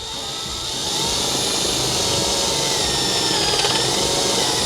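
A power drill bores through plywood in a cargo trailer camper build, a loud continuous high whine that ramps up after the first second and holds steady close by, with no talk.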